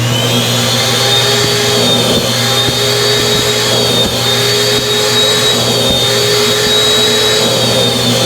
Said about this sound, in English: if you take a white towel and put it over the end of your vacuum hose, we can simply come up to the material and vacuum a little piece